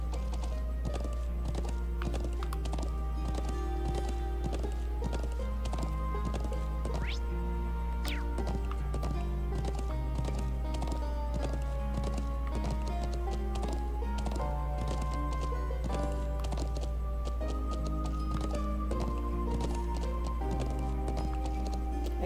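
Steady clip-clop of horse hooves at a quick pace in the video game Trails of Cold Steel, with a constant low hum and game music layered over it throughout.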